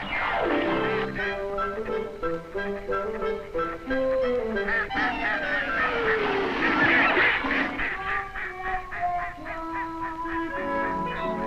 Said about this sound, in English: some ducks were floating and bathing.